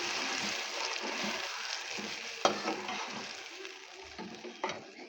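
Tomato paste being stirred into fried onions in a cooking pot for biryani: a steady, close sizzle with soft scraping stirs and occasional sharper clinks.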